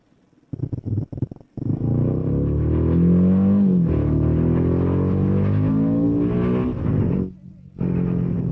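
A Himalayan 450 adventure motorcycle rides through a traffic jam, its engine droning steadily close by with a brief rise in pitch, opening with choppy bursts and dipping momentarily near the end.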